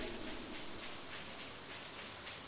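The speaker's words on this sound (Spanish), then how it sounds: "vamos a tirar otro tótem de lluvia más" Steady rain summoned by a rain totem in the Stardew Valley farming game, a dense even hiss of falling drops heard alone with no talk.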